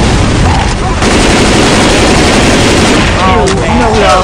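Rapid gunfire bursts from Left 4 Dead 2 rattle almost continuously and loud, with players talking over the shooting throughout.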